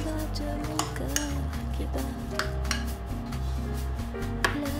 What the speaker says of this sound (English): Add in the cheddar cheese and then stir gently to combine.